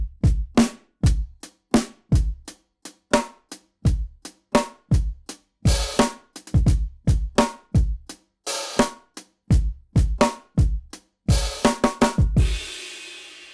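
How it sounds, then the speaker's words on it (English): Cajon from an Addictive Drums pack layered with a trigger sample plays a steady, punchy groove of dry hits, each with a deep low thump and a sharp slap, closing with a brief wash of noise. "And that cajon is tied to this trigger. But together, they sound like this."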